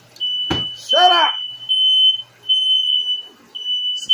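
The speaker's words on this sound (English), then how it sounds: "These fire alarms are real sensitive." A sensitive smoke alarm beeps in a kitchen while pork steak is deep fried, a steady high-pitched chirping tone running through while a person talks loudly over it and a sharp knock sounds near the start.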